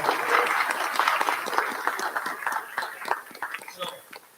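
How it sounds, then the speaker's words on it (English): Audience applause at an album release event for a student record label, thanking the sound and lighting engineer; dense steady clapping from a crowd with some voices and cheers mixed in, fading slightly toward the end. "Really quick round of applause."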